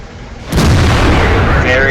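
A tank gun fires a single heavy shot in World of Tanks, a sudden loud boom that breaks from quieter background and rolls on as a sustained rumbling blast.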